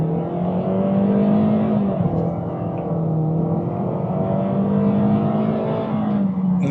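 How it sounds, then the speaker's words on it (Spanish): A 2025 Toyota Corolla FX in Sport mode accelerates at full throttle, its engine giving a loud, steady drone that holds throughout with slight pitch shifts. "Aceleramos a fondo."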